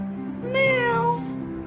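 A child imitates a cat's meow, a single drawn-out rising and falling mew with clear vocal tone, close and fairly loud against a quiet room.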